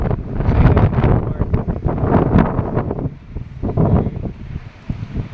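Steady broadband wind off the sea buffeting the microphone outdoors on a seaside boulevard, a continuous low rumble with gusts rising and falling, no speech.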